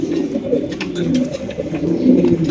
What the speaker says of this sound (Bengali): এখানে কিন্তু আমরা দেখতে পাচ্ছি রেসার কবুতর মাশাআল্লাহ, মিলি রেসার, সুপার মিলি রেসার